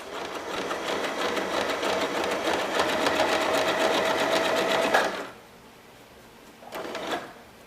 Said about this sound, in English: I'm going to continue wrapping and wrapping so I can sew the entire length of the way I want to go